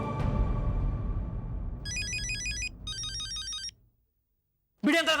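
A phone rings with two short electronic ringtone bursts over loud dramatic music from a television comedy scene, then everything falls silent before a voice speaks.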